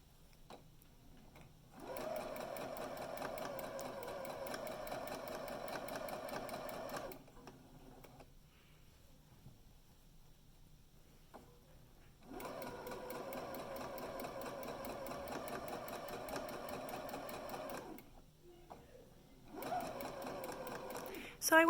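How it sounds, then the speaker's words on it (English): Sewing machine stitching fabric for a drawstring bag, running in two long steady bursts of rapid mechanical chatter separated by a quiet pause, with a voice speaking between runs. "We're going to drop our needle down into the fabric."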